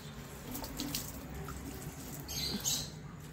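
Banana peel water is poured onto potted plants, giving a soft, continuous trickle and splash close by with faint background noise and no speech.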